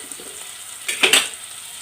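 Rava upma cooking in a pan, with a faint background sizzle and then a few quick scraping and clinking strokes of a spoon against the pan near the middle, close and short, with no talk.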